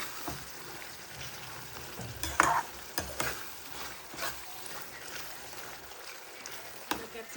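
Capsicum gojju being stirred in a pan, giving soft scraping and faint sizzling with a couple of sharper utensil knocks, close and fairly quiet, with no talking.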